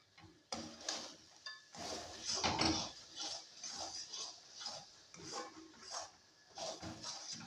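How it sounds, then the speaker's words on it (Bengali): A spatula keeps stirring garam masala paste in a pan, producing irregular close scraping strokes and clicking knocks against the metal in a steady rhythm, without speech. "এইভাবে আমি নাড়তে থাকবো থামা যাবে না"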